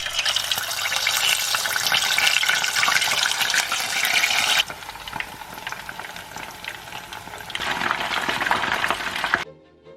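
Loud, continuous sizzling and crackling of potatoes frying in hot oil, close up, dipping briefly midway before rising again.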